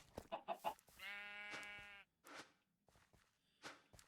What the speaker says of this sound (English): lure a sheep or 2 onto the premises.